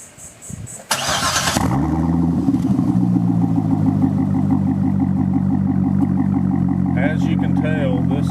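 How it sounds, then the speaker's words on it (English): A Chevrolet Corvette fitted with a B&B Bullet exhaust fires up with a sharp burst and settles into a loud, close, steady rumbling idle, with a voice briefly heard near the end. "now we're going to crank it up at idle"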